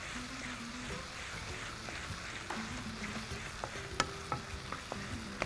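Chopped tomatoes frying and being stirred in a pan for a Tamil home-style dish: a steady close sizzle with scattered spoon scrapes and light clicks against the pan, no voices.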